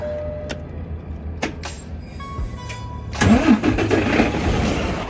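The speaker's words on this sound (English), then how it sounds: "I'm gonna turn on the truck so it could keep on compressing air." A semi truck's engine cranks after a few clicks and hums, then catches and settles into a loud, rumbling idle close by.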